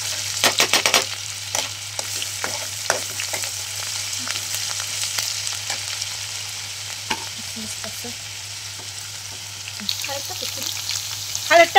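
Curry leaves fry and crackle in hot oil in a pan, with steady sizzling and sharp bursts of popping at the start and again near the end, along with occasional scrapes of stirring, close and fairly loud.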